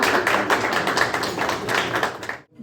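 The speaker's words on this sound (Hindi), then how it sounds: "ताली बजाओ।" An audience at a Chhattisgarhi film event claps in a dense, continuous patter for about two seconds, then stops abruptly.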